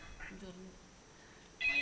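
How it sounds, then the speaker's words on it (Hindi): A phone rings faintly in short electronic bursts during a Hindi stage play, with a louder ring near the end over quiet room noise. "ए रुक रुक रुक, पीयू का फोन आ रहा है।"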